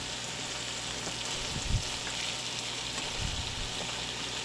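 Onions sizzle and fry in a small pan, a steady close hiss with a couple of soft stirring bumps.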